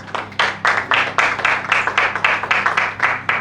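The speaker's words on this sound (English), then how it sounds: "A round of applause for her, please." A small audience at a cowpea farming event claps in a brief, loose burst of distinct hand claps that fade away after a few seconds.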